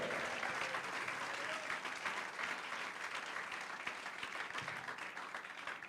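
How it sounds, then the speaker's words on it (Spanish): A church congregation breaks into a loud, dense round of applause during a worship service, sustained and even throughout with a faint voice briefly audible beneath it. "¿Cuántos dan un fuerte aplauso al Rey?"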